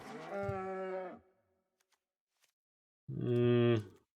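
A cow moos twice, loud and close, as a card sound effect in the MTG Arena digital card game, the two calls separated by nearly two seconds of silence.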